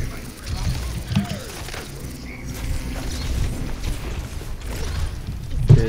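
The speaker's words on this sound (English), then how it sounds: "I love how that she reloads this gun by twisting a nozzle" Mei twists the nozzle of her ice gun to reload in Overwatch, giving a quick mechanical ratcheting click amid busy game sounds and voices.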